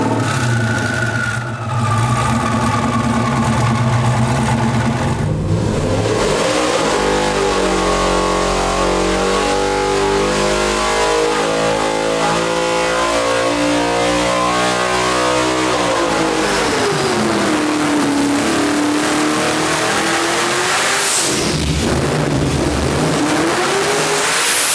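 A Hennessey Venom F5 supercar engine of 1,817 horsepower idles, then revs hard in repeated roaring climbs, drops back, and surges again with a loud, aggressive howl close by.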